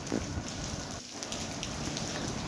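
Moderate rain falls steadily outdoors, an even hiss of drops spattering on surfaces at close range, with a brief lull near the middle and no talk.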